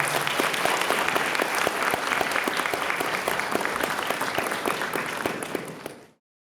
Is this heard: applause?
yes